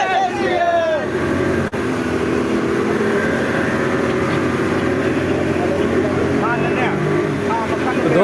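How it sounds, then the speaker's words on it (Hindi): A motorboat carries passengers toward Coral Island, its engine a steady, loud drone over rushing water, with a babble of chatter from people aboard throughout. "मैं आपको दिखाने वाला हूँ बोट राइड, जब हम लोग इस जगह से आइलैंड की तरफ जा रहे थे, कोरल आइलैंड की तरफ"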